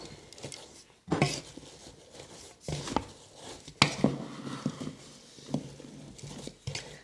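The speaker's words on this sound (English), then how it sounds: "I'm going to go ahead and just put these right on the apples. Just stir them up." Sliced apples tossed with a sugar and lemon juice mixture for a sour cream apple pie are stirred in a bowl, making irregular close clacks, knocks and soft scrapes.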